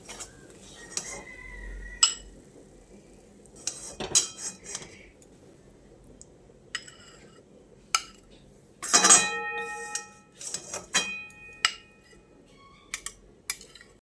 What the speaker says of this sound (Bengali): ভর্তাটাকে আমি এখন একটা বাটির মধ্যে সার্ভ করে দিচ্ছি